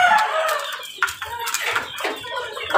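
A pet rooster crows and clucks up close, its bright, raspy calls coming in several short bursts over a couple of seconds, with faint background noise and no talking.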